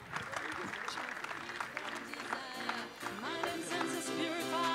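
An audience at the FDJ Suez cycling team presentation applauds in a steady wash of clapping, with a voice talking over it and music rising toward the end.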